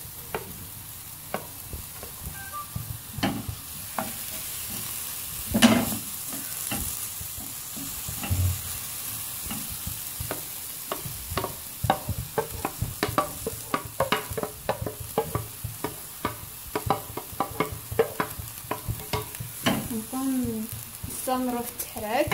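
Red and green peppers with onion sizzle steadily in a pan for tacos, with frequent close scraping and clacking stirs building into a busy rhythm toward the end.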